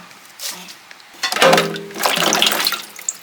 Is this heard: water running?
yes